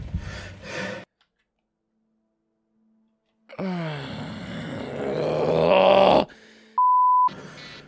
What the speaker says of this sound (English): Will you stop beeping?